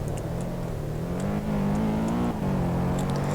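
A car cruising steadily at top speed, with a sustained engine drone that rises slightly in pitch and briefly dips before holding again, heard close and continuous with no talking.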